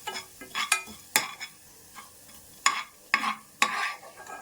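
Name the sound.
coriander seeds frying in a pan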